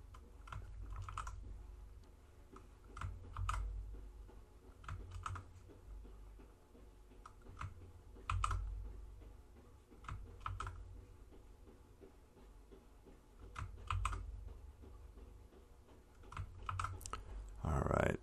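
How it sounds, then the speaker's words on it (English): Typing on a computer keyboard while entering values into a graphing calculator, irregular bursts of close key clicks with pauses between them, fairly quiet. "having a lot of trouble typing"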